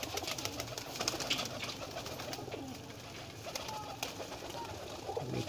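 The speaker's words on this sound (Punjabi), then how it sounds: "ਇਹ ਇਹਨਾਂ ਦੇ ਪਰਵਾਜ਼ੀ ਜਿਹੜੇ ਨਰ ਕਬੂਤਰ ਨੇ ਸਾਰੇ, ਇਹ ਜੀ ਸਾਰੇ ਨਰ ਨੇ" Male flying pigeons coo continuously in a loft, several birds overlapping in a steady murmur of soft throaty coos at moderate volume, with faint rustling and no clear talk.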